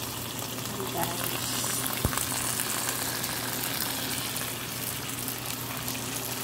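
Shrimp fries Ilonggo style in butter with garlic and salt, giving a steady, close sizzle and crackle that holds throughout, with one sharp tick partway in.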